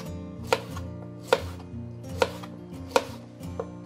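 Knife cutting through a pineapple along the rows of eyes on a cutting board, five sharp evenly spaced chops about a second apart over a soft background tone, close and clear with no voices.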